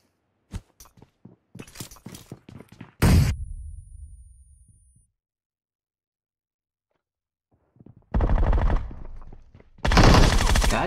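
Automatic gunfire in PUBG Mobile: a rapid volley of loud shots near the start, a heavy burst around three seconds with a fading tail, then after a silent gap two more sustained loud bursts of fire.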